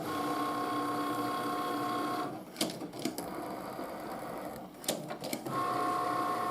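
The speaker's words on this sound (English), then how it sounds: "So it's first going to score first." A Cricut cutting machine scores paper with a steady, close mechanical whirr and hum. Midway the motor drops away, leaving a few sharp clicks and clacks, and then the whirring starts up again.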